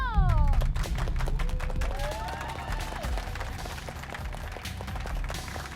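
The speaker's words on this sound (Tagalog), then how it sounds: "Palakpak mo yan!" Crowd clapping at a night-time village show in Sitio Dolores, a dense run of sharp claps with cheering and a voice over it, steady and fairly close for several seconds.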